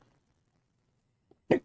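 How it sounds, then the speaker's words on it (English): A single sharp hiccup from a man during a Minecraft Skyblock gaming session, loud and close, preceded by a faint catch and then quiet. "Great, I got the hiccups."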